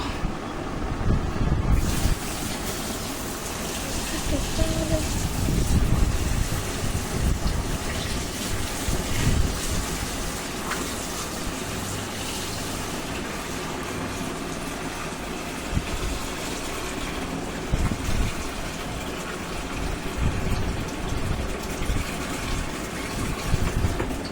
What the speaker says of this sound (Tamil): தண்ணி ஊற்ற போறாங்க